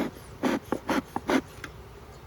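Honey bees working a small hive colony give off several short, close buzzing bursts that swell and fade between quieter gaps.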